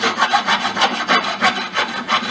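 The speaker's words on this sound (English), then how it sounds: "I'm going to touch it up with a file" Rhythmic back-and-forth rasp of a hand file on a brake part from a 2003-2010 Honda Accord front brake job, about ten even scraping strokes, close and fairly loud with no talk.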